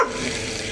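Beef burgers sizzle in a pan over a Buddy Burner outdoors, a steady close frying hiss with no voices.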